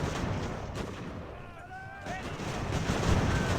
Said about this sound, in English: The musket fire drowning it out all sound